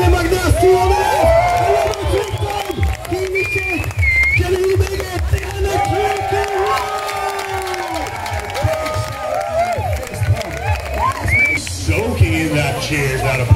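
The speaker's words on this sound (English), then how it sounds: "Cheers, not applause." A crowd of spectators cheers at the 2024 Canoe Freestyle European Championships in Graz, with shouts, whoops and scattered clapping. Voices rise and fall throughout, and commentary talk runs underneath.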